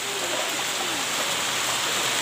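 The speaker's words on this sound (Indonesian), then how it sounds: "Apalagi waktu hujan seperti ini." Steady rain falls outdoors at a village home, a continuous close hiss of drops with no talking.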